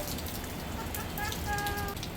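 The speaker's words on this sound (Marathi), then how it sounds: "पाऊस पडतोय ना" Rain falls steadily in Kandivali with an even, close hiss, while a faint voice and a few thin tonal sounds rise briefly above the downpour.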